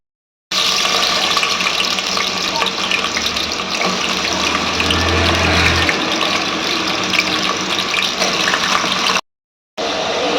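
Onions fry in hot oil with whole spices such as cardamom and cloves for prawn biryani, making a loud, steady, close hiss. It continues unbroken apart from a brief cut near the end, with a low rumble midway.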